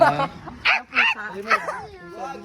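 A small dog yips and barks in several quick bursts, mixed with whimpering, close to the listener with voices around it.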